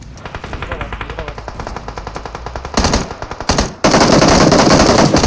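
Rapid automatic gunfire in the shooter game PUBG Mobile rattles in steady bursts, then grows louder and denser in a sustained close-range volley.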